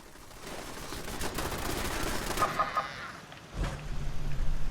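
Turrets firing in Fallout 76, loosing rapid, steady bursts of gunfire that build in intensity and continue close and loud, with no voices.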